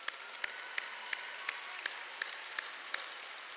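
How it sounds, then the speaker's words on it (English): A steady wash of applause from a large crowd at a high school graduation ceremony, with sharper individual claps standing out at a regular beat above the continuous patter. "can you join me in a round of applause for all your teachers"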